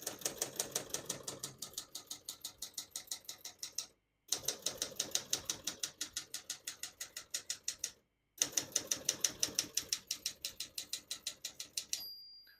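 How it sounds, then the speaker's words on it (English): Rapid mechanical keystrokes from a 1972 Adler J5 manual portable typewriter clatter in three bursts separated by short pauses, ending with a bright ding of the margin bell. "Once you hear the bell, you're at the end of the margin."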